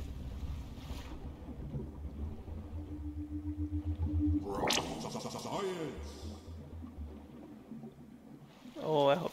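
Water in the survival video game Grounded gives off a steady, wind-like rushing wash, like surf and breeze, running throughout with a voice talking over it.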